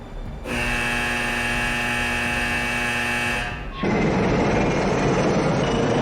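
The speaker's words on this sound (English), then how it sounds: "We are going to hear one more alarm for fire engines, which is followed by liftoff." At a museum missile launch exhibit, a loud harmonic alarm buzzer sounds for about three seconds and is then cut off by a simulated liftoff, a broad roaring rumble that swells and holds loud to the end.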